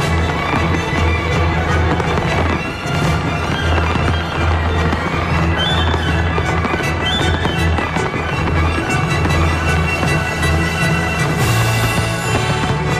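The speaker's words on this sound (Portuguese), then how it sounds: "Tá aí o mar de Copacabana iluminado por 25 toneladas de fogos de artifício." Continuous bursts of New Year's fireworks over Copacabana beach crackle and boom for several seconds, dense overlapping explosions with a steady low rumble, loud and sustained.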